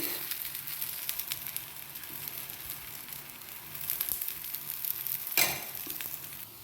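A roti cooks in oil on a hot griddle, giving a continuous close sizzle with gentle crackle and a brief louder burst near the end, with no voices.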